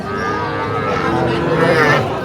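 Small Sahiwal heifers at Raniganj cattle market moo in a long, loud, continuous call close by, with faint market crowd noise behind.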